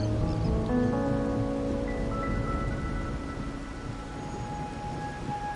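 Rain falls steadily in the video game Wuthering Waves, a soft continuous patter under sustained tonal music notes, moderately loud and even throughout.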